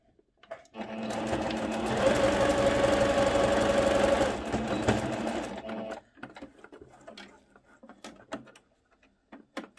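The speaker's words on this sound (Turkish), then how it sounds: "Lastik bölümü için bıraktığım boşluğu da dikiyorum." Sewing machine stitching the waistband of a trouser skirt, a steady loud mechanical whir running for about five seconds before stopping, followed by quieter handling sounds of fabric.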